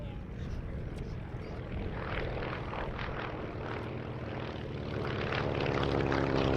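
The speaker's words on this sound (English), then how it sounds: "It's now painted as the personal aircraft of His Royal Highness Prince Bernhard of the Netherlands" A Beech Staggerwing biplane flies at the Duxford summer airshow, its single propeller engine droning steadily and swelling louder toward the end while an announcer talks over it.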